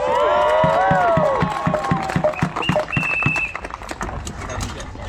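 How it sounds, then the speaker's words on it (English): Crowd applause and cheering for an armoured combat fighter at a medieval combat event, a burst of clapping and whoops that starts loud and tapers off, with a voice talking over it. "everybody give him a large round of applause"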